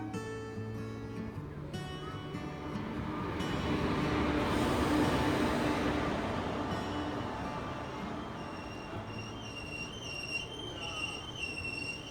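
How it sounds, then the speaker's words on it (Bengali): The Teesta Torsa Express pulling into platform 4 at Katwa station, a loud rolling rumble of wheels and carriages that swells in the middle and eases off, with a horn-like tonal blast early and high tonal hum later. "আর এই তো আমাদের তিস্তা তোরসা এক্সপ্রেস এসে পৌঁছলো কাটোয়া স্টেশনের 4 নম্বর প্ল্যাটফর্মে।"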